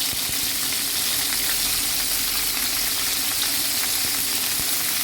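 Dense, continuous sizzle of peppers frying in about half a tea glass of hot oil in a pan, close and loud, with fine crackling spits throughout and no voices.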